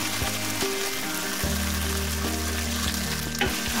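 Blended spice paste sautés in a pan for village chicken varuval, a steady sizzle running throughout with faint stirring scrapes, while low tonal hums from a nearby appliance or fan sit underneath.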